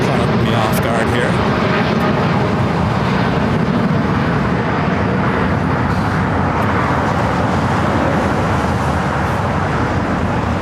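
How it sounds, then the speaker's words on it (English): A Boeing Dreamliner at LAX gives off a loud, steady jet roar that fills the whole stretch without a break, while voices talk over it. "This Dreamliner caught me off guard here."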